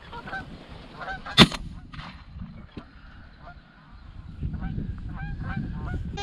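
Geese honk repeatedly overhead in flight, several calls overlapping, with one sharp loud gunshot crack partway through and rustling outdoor field noise beneath.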